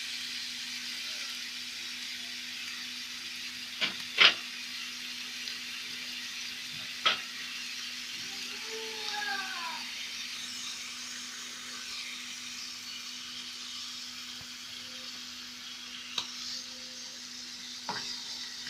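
Onion and garlic sautéing in a pan, a faint, even sizzle under a constant low hum, with a few isolated utensil clicks and scrapes spread across the span and no talk.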